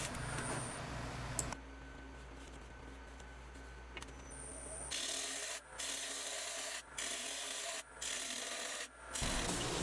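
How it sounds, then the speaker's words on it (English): Sandpaper, worked from 80 up to 400 grit, rubs against spinning hackberry or sycamore on a lathe in a steady rasp, stopping and restarting several times in short, regular bursts. "I started sanding at 80 grit and I worked through all the grits clear up to 400."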